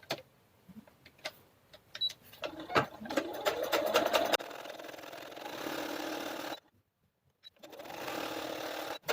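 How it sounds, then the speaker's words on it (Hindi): A sewing machine stitches at the corners of a garment border in short stop-start runs of fast whirring. A brief clatter is followed by a near-silent pause, then stitching resumes. "मैंने यहाँ पर ये कॉर्नर कॉर्नर पे सिलाई लगाने लगी हूँ।"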